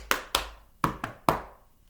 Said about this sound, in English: Stamp, tap, tap, tap, clap.